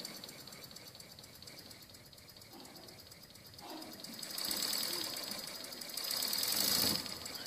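A very small oscillating steam engine runs fast, a close rapid chuffing and clicking that swells in intensity as it speeds up, with a hissing rush rising toward the end.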